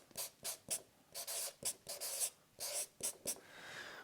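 A marker writing on a board in a series of short, quiet squeaky strokes, each lasting a fraction of a second, with brief pauses between them and no talk.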